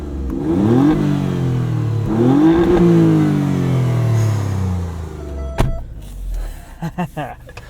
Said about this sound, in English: It's a different engine note to a V6, but I really like it. It's very throaty.